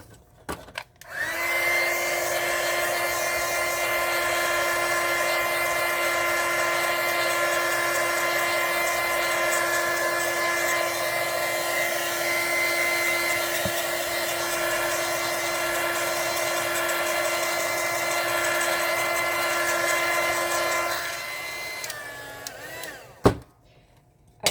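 A hair dryer blows hot air onto a watercolor painting, a loud steady whine running unbroken for about twenty seconds before it clicks off, with a brief thump at the end.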